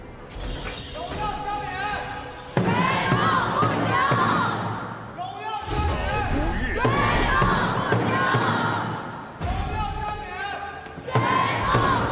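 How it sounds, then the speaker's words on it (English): A crowd of fans roars and cheers at an Honor of Kings esports knockout match, loud surging bursts that swell, cut off and return, with shouting voices and a caster talking over them. "Let's hear the fans cheer"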